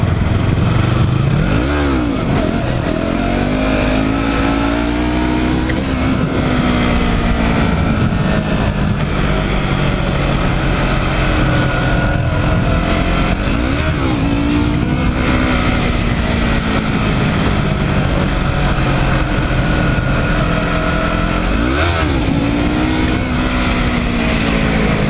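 Motorcycle riding around a parking lot, its engine loud and close throughout, repeatedly revving up and easing off in rising and falling sweeps, with no talking heard.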